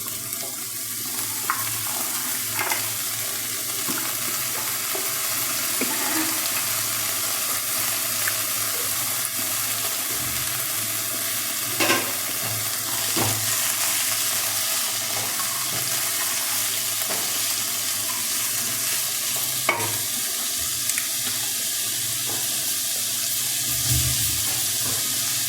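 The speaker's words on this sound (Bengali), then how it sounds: "এই পেঁয়াজটা একটু ভাজা ভাজা হয়েছে, এবার আলু কুমড়োটা দিয়ে দেব।" Potato and pumpkin chunks fry in a pan with onions, a continuous sizzle punctuated by scattered scraping and stirring clicks of a utensil, close and fairly steady throughout.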